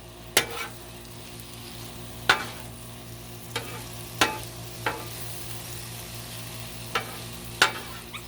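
Black pepper chicken fries on a Blackstone griddle in a steady, close sizzle, broken by sharp scraping clacks of a spatula striking the hot surface roughly every second or two.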